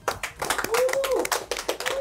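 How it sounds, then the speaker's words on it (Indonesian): A few people clapping hands close by, quick uneven bursts of claps mixed with laughter and overlapping talk during a casual chat. "Tepuk tangan dong."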